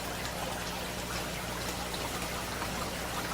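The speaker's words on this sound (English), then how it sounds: "Water is now flowing" Water runs steadily through aquaponics pipes in a greenhouse, making a continuous, even wash of flowing and splashing that stays close and constant throughout.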